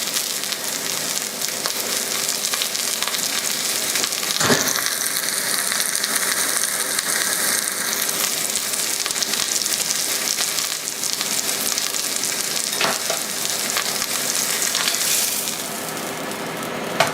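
Chicken breasts frying in oil in a pot for chicken cacciatore: a loud, continuous sizzle up close, with a couple of brief clanks partway through.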